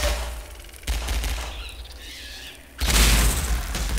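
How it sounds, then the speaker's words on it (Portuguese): An explosion goes off right beside the player in Half-Life 2, a loud booming burst with rumbling low end and crackling debris, followed by a second heavier blast near the end amid gunfire-like bursts. "Explodiu aqui do meu lado."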